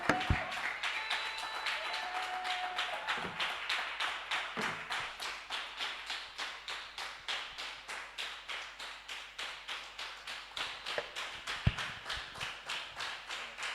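A church congregation claps steadily through a worship service, rapid continuous applause with a brisk rhythm holding for the whole stretch, loud and close, with no talking over it.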